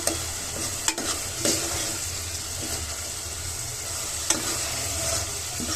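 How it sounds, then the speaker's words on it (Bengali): Tomato masala fries in hot oil for a spicy chicken heart and potato curry, with a close, steady sizzle and repeated scraping of a spoon stirring the pan, and sharp clinks now and then. "মশলাটা ভালোভাবে কষিয়ে নিচ্ছি।"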